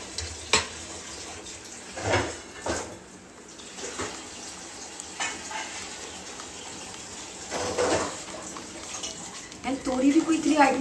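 Gram flour (besan) batter is whisked in a bowl for pakoras, making soft, wet slapping and scraping strokes in uneven bursts beneath a woman's chatter in a home kitchen.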